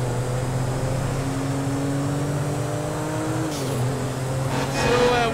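A car driving in Grand Theft Auto 5, a steady low engine drone that holds pitch, dips briefly as it shifts, then rises slightly near the end, close and continuous with no voices.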